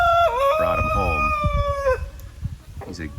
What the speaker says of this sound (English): He's a good looking, real friendly rooster.